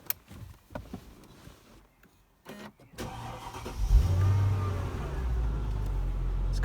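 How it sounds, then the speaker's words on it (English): A 2004 Mercedes-Benz E55K AMG with a 5.4-litre supercharged V8 cranks and fires up nearby after a few clicks and rustles, settling into a deep, rumbling idle. "This car sounds really nice and has a really big growl to it when you start it up."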